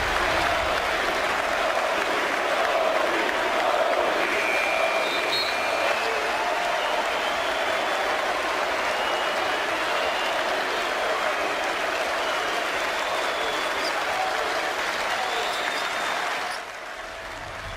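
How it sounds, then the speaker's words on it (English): A basketball arena crowd in New Orleans cheers and applauds in a sustained roar for about sixteen seconds, a broad wash of clapping and shouting at a constant level that drops off near the end. "more intentional shot clock violations and more cheering in New Orleans. Listen to this."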